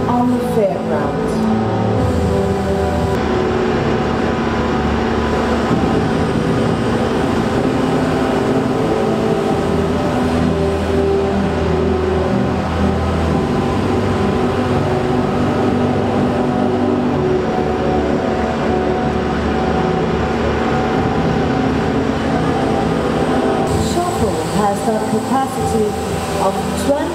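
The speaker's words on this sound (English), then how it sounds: "this PC4000 from Komatsu is made in Germany. And it's the biggest excavator on the fairground" Giant Komatsu PC4000 excavator running at the Bauma 2019 trade fair, a loud continuous deep engine drone with mechanical whine layered over the crowd noise of a busy fairground, with someone talking over it.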